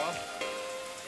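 Light rain falls steadily in an outdoor wilderness camp in the hills, a soft, faint patter heard alone in a short moment.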